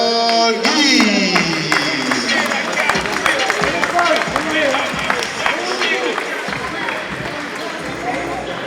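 An audience claps and cheers for a boxer at a regional elite boxing championship in 2015. The dense applause swells and then slowly thins, while an announcer speaks over it.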